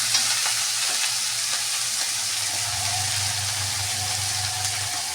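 Onion, chili and ginger fry in a pan with a continuous, even sizzle heard up close, steady throughout with a low hum beneath and no talking.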